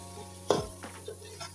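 A spoon scrapes and stirs chicken biryani masala frying in a pot, with one sharp clank and soft sizzling between quieter, close strokes.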